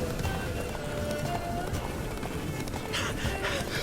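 Roach, the horse in The Witcher 3, runs with steady, muffled hoofbeats under a dense wash of game ambience, its gallop fairly continuous and mid-distance for the few seconds heard.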